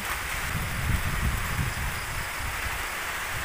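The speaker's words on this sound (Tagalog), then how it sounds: "Malakas-lakas pa rin yung hangin dito, saka yan yung ulan pa rin." Steady roaring wind with rain hissing throughout during a typhoon, a continuous dense outdoor wash with gusty low rumble and no voices.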